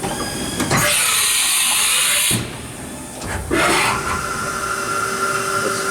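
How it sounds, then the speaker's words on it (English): Haas Super Mini Mill vertical machining center moving its table in a crisscross pattern, a loud mechanical whir and hum with two rising servo bursts and a steady background drone, heard alone. "Just doing a little crisscross pattern with the table"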